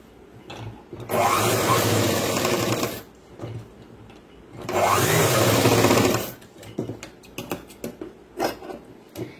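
Sewing machine stitching a boys' school uniform pant, two loud sustained bursts of fast whirring stitches separated by pauses, then softer handling taps and rustles of fabric, close and without speech.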